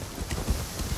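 Horse hooves clip-clop at a steady pace during a ride in the video game Assassin's Creed Shadows, with a soft rhythmic patter of footfalls under faint wind noise.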